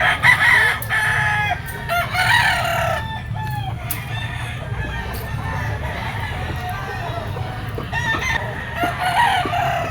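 Red kelso bloodline gamecock roosters, yellow-legged, crow repeatedly nearby over a steady background of clucking fowl, with several overlapping crows through the stretch.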